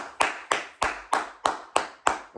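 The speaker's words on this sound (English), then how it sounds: "we're going to keep clapping for Darnell Washington" Audience applause for football player Darnell Washington: eight sharp, evenly spaced claps at a steady rhythm, each decaying quickly, close and fairly loud with no talking.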